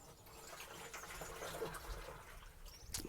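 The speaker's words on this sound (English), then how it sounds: "Nice sound of the water going into the watering can." Tap water streams into a watering can outdoors, a soft continuous gushing and splashing fill that stays fairly quiet and steady, with no one talking.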